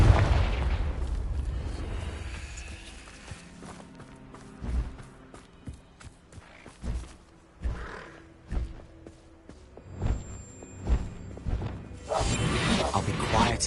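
Confringo blasting spells explode repeatedly in Hogwarts Legacy, with a rapid series of booming blasts and whooshing bursts arriving in uneven rhythm, some close and heavy, over a rumbling backdrop.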